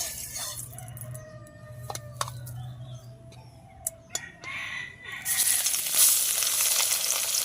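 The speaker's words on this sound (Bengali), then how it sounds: "মাছের মাথাটা ভেজে নেব সর্ষের তেলেই হবে রান্নাটা" Bhetki fish head frying in hot mustard oil, a soft sizzle that swells into a loud, steady crackle partway through, with a few sharp pops and clinks along the way and no talking.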